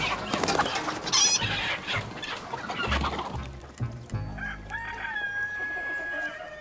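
Bantam-sized French-breed chickens crow and cluck in a busy coop, with a loud rooster call and overlapping hen clucks, then a clear crow rising over softer background birds.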